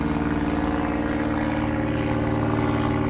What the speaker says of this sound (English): a very noisy aircraft going past, towing a banner